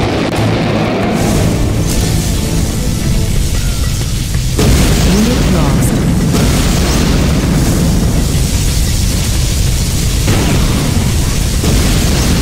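A loud, sustained particle cannon blast in Command and Conquer Generals, a dense roaring boom that fills the whole stretch with continuous rumbling intensity and no talk.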